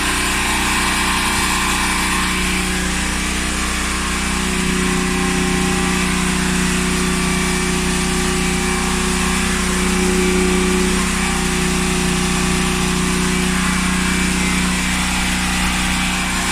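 A freezer's compressor hums steadily and loudly during a freon top-up, a continuous mechanical drone with a low tonal buzz that stays even throughout, with no talk.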